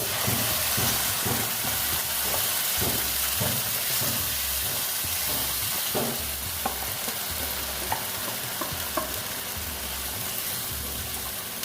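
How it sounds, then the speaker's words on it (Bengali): Spice paste for dhaba-style paneer butter masala hits a hot pan and is stirred. A loud, continuous sizzle and hiss runs throughout, with repeated scraping strokes of the spoon against the pan. "এবার আমি যে পেস্টটা করেছিলাম ওই পেস্টটা আমি দিয়ে দিচ্ছি দেখো"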